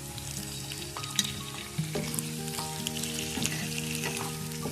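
Chicken pieces frying in a pan with oil, a bright, continuous sizzle with crackling pops and a few scraping stirs, close and without any voices.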